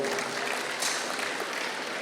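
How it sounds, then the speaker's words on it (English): Audience applause at a Star Wars convention panel, Festival of the Force 2026, a steady wash of clapping filling the room at moderate level with no talk. "Round of applause for that."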